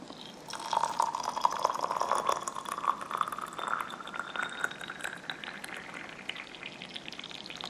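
Near-boiling water poured in a steady stream into a small Yixing clay teapot holding pu-erh leaves, with a bubbling gurgle whose pitch rises gradually as the pot fills.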